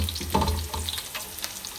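Minced garlic and whole cumin frying in hot oil in a pan, the base for a Bangladeshi mixed small-fish curry, giving a steady close sizzle with a brief stir near the start.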